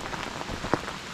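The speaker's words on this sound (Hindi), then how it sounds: "बारिश स्टार्ट हो चुकी है" Rain falls steadily on a wet mountain trail during a trek, a soft continuous patter of drops with one sharper splash standing out, close by and with no voices.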